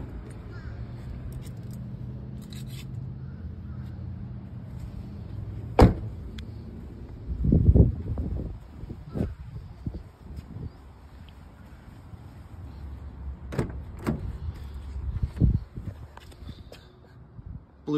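Car power windows whir in short motorized bursts inside a vehicle cabin, set against a low, steady background hum with occasional thumps.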